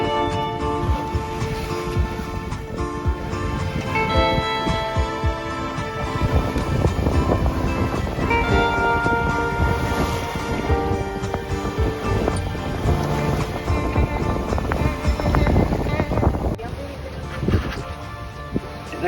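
Steady wind and water rushing past the hull of a Bavaria 960 sailboat beating upwind under sail off Tuscany, a continuous broad roar with wind buffeting the microphone and faint tonal hum, no talk.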